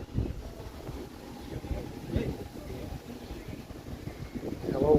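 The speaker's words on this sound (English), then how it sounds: "It's kind of breezy today too. Cool and breezy." Wind buffeting a microphone outdoors on a cool, breezy evening in Toronto, a low rumbling roar with gusty swells that runs the whole way through.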